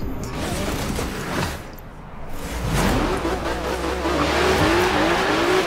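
Race cars in the Forza Horizon 3 video game roar along with rising engine revs. Tires squeal and skid through corners, and a few faint voices sit under the steady engine noise.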